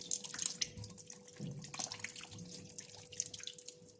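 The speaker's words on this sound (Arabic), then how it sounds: "نقعها في الميه" Water drips and trickles from a tap as food is soaked in water for cooking; a light, close splashing runs steadily throughout.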